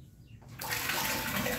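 Water from a 12V 30W brushless mini pump, lifted about 4.4 meters, bursts in suddenly and then pours in a steady, fairly loud rushing stream.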